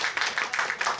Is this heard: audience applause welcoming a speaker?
yes